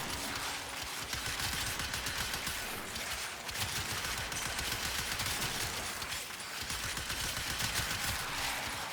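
Rapid, continuous weapon fire from the video game Warframe, a dense, loud stream of shots with no talking, sustained throughout.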